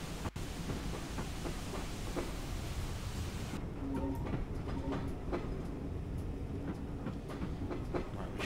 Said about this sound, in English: So when the rear of the train gets through that, we'll be able to speed back up again.